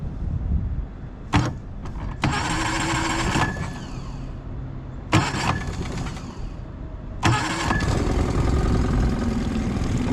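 Small boat engine cold-starting after the primer bulb is squeezed, with a few short cranking bursts and pauses before it catches into a loud, steady close-up run.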